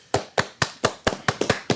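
Sharp hand claps ring out close and loud, about nine in quick, slightly uneven succession, each a crisp smack with a short decay, with no talk.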